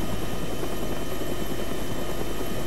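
A medium utility helicopter in ArmA 3 with the AFM Rotorlib flight mod: loud, dense, continuous rotor and engine roar filling the whole stretch, close and steady with no voices.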